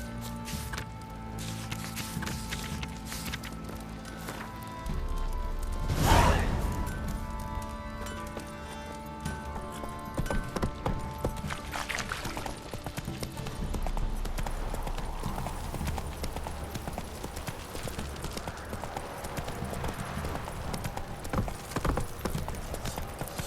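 Hooves of Roach, Geralt's horse in the video game The Witcher III: Wild Hunt, clip-clop steadily at a walking pace, close and continuous, with a brief louder burst and faint clinking of tack mixed in.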